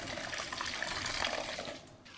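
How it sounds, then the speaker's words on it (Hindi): Water from strained curdled milk (chena) for sandesh drains steadily through a cloth, a soft continuous trickle and splash that fades out at the end. "इस स्टेज पर जो ऊपर का पानी है उसे हम निकाल देंगे और अब इसे हम छान लेंगे"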